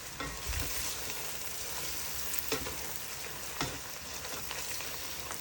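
Oil bean (ugba) being stirred in a hot pan for abacha African salad, with a steady frying sizzle throughout and a few scraping clicks of the spoon, no voices.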